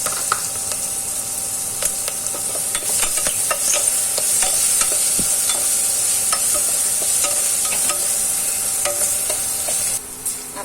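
Potatoes frying in a pan with salt and turmeric for a Gujarati long bean and potato curry, giving a steady loud sizzle with scattered stirring scrapes and clicks, no voices.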